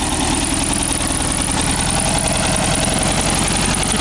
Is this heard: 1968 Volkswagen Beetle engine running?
yes